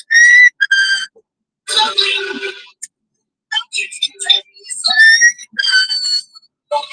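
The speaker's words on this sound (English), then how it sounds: "Who's whistling?" Someone whistles in short, high bursts with gaps of silence between, close by and fairly loud.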